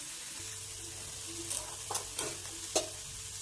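Chicken pieces are mixed with ginger-garlic paste, giving a few soft, wet squelching strokes and light scrapes in a bowl close by, under a low background hum.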